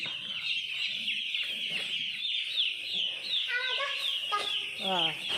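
A dense chorus of two-day-old white broiler chicks chirping on a poultry farm, constant high peeping with a few louder, sharper calls near the end.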